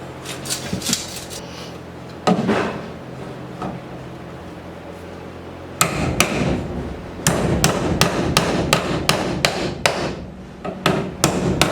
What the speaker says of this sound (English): I went around and marked each stud that I'm going to nail a box to